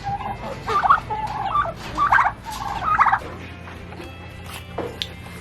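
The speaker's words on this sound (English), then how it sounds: "Oh look, another turkey." Several turkeys gobble in quick bursts at close range, three loud rolling calls in a row followed by quieter bird noises as they settle.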